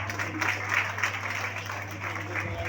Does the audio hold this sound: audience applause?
yes